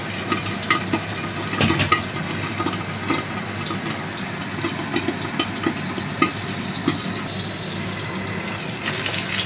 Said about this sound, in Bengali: তেলটা গরম হয়ে গেছে, এবার আমি দুটো দুটো করে পাবদা মাছ ভেজে নেব।